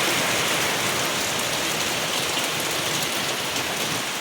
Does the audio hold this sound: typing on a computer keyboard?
no